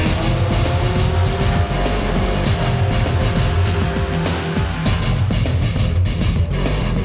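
A VW Golf MK6 GTI engine running steadily on a dyno during a baseline run, a loud, continuous drone with a sustained mechanical hum and no talk.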